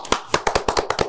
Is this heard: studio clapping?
yes